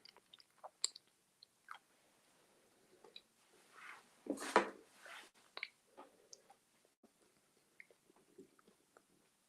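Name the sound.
crunching while eating a cookie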